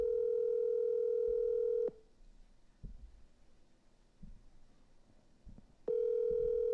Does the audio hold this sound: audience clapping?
no